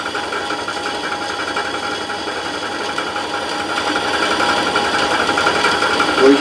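A sharp drill bores through the metal of a towbar for a KTM e-bike with a steady, loud grinding whir that swells slightly toward the end, with no speech.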